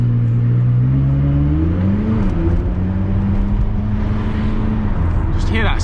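A McLaren engine revs hard on a London street, its tone rising and falling as the sound echoes off nearby buildings; the drone is loud, steady and close throughout.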